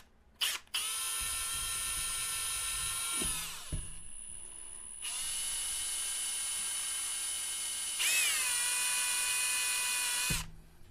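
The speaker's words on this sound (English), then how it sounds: "Put it on the drill." A high-pitched power drill whines steadily in three long bursts separated by short pauses, loud and close, with no talking.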